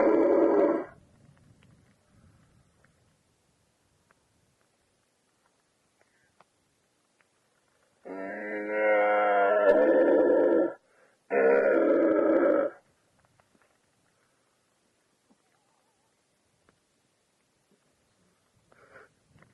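Hunter imitating a stag's roar during a deer hunt, heard as two long, hoarse, bellowing calls separated by a short gap, preceded by a brief breathy sound and surrounded by near silence.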